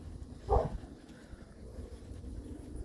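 A single short bark from a dog nearby, clear but brief, followed by quieter background rumble with no further barking.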